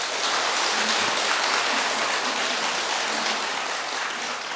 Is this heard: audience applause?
yes